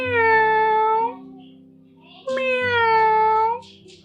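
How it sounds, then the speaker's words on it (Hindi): A cat meows twice in drawn-out, wavering cries, each lasting about a second, with a low steady musical backing underneath. "म्याऊ करते हुए उसके हैंडल से अपना शरीर रगड़ने लगती"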